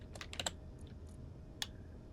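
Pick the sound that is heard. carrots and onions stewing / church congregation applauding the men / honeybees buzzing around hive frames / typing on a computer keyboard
typing on a computer keyboard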